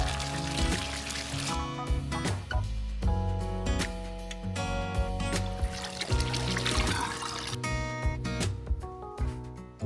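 Hot spring water pours into a bath at a Japanese ryokan in Hakone, a steady rushing splash with irregular clattering knocks, moderately close and without talk.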